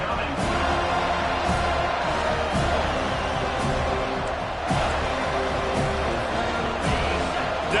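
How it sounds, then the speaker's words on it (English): A football stadium crowd roars behind the defense on a third down, a dense, sustained wash of cheering and yelling with bursts rising through it over several seconds. "Decibels rising as the crowd gets behind this defense on 3rd down."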